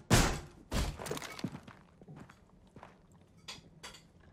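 A barricade being placed in Rainbow Six Siege, a series of heavy wooden thumps and knocks, two loud impacts first then lighter tapping hits trailing off, close and without talk.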